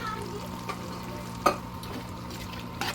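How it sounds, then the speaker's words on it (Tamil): Mutton biryani mixture stirred in a pot after mutton stock is added, with soft scraping and a light background sizzle, one sharper clatter midway and another near the end, no voices. "ஊற்றி விட்டு நல்லா கிளறி விட்டுருங்க."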